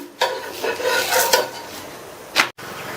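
Breakfast flatbread flipped on a pan with a spatula in a home kitchen: a few scraping, clattering metal strokes against the pan over a soft sizzle, close by, ending in a sharp knock.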